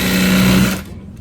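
A sewing machine stitches a U-shaped seam on a fabric bag, a brief steady mechanical whir that stops abruptly partway through.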